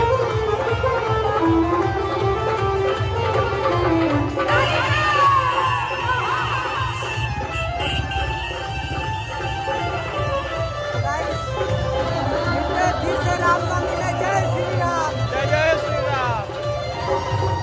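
A dense crowd at a Jai Shree Ram celebration in Patna on 22 January, continuous loud chatter and shouting with many voices overlapping nearby, steady throughout.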